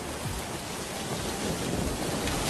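Heavy rain and thunderstorm noise, a dense and steady broadband roar with low rumbling underneath, continuous and fairly loud through the whole stretch with no talk.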